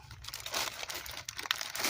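Scissors cut open a small lemon-scented powder pouch for a portable potty, giving a quiet, close crinkle and crunch of packaging over about two seconds with a few sharper snips.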